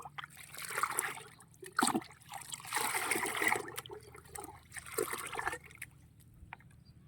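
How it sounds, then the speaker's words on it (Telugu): Water mixed with coffee powder poured over garden plants, a soft trickling and splashing that comes in several bursts with short pauses between, moderately close and with no talking. "ఇప్పుడు చూడండి చెట్లకు నీళ్ళు"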